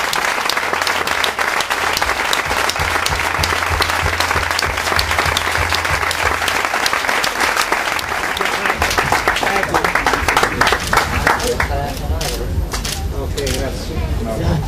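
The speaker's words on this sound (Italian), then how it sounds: "fategli un applauso" A live audience claps steadily and densely at an evening event at the Mamamia, the applause running loud throughout and easing slightly toward the end.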